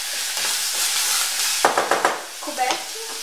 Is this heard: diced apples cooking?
yes